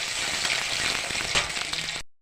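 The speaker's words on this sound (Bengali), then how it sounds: "তারপরে দিব পেঁয়াজ কুচি। এভাবে নাড়তে থাকবো।" Chopped onion fries with a loud, dense sizzle in a pan of oil and nigella seeds, with light scraping from stirring, before cutting off abruptly.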